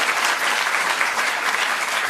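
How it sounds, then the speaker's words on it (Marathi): An audience at a World Parkinson's Day gathering in Pune claps steadily, a dense, even wash of applause from a crowd of many hands, close and continuous from start to end with no voices over it. "एकदा टाळ्या फक्त वाजवा"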